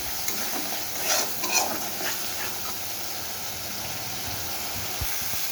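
Masala spice paste sizzling in a pan for a thin bhola fish curry, a steady soft frying hiss with a few stirring scrapes, fairly quiet and close.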